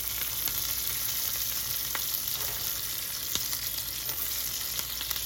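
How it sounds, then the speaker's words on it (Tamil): A beef steak fries in hot oil with a steady, close sizzle and scattered sharp crackles and pops throughout. "ரெண்டுமே வெடிக்கிறது பார்த்தீங்களா, ஆயிலில் இந்த ஃப்ளேவர் இன்க்ரீஸ் பண்ணி அந்த அப்படியே ஸ்டேக்கை குக் பண்ணணும்."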